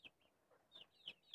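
Chickens cluck in a few short, faint bursts spread across a brief moment, with no talk over them.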